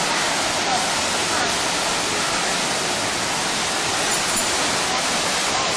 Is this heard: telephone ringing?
no